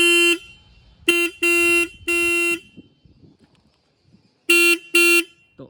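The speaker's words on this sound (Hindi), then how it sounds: "एक लास्ट में मैं आपको हॉर्न भी सुनवा देता हूँ कि बाइक का हॉर्न कैसा दिया है।" Loud electric horn beeps from a Royal Enfield Bullet 350 Standard motorcycle: one short, three longer honks, a pause, then two more, with faint background noise between.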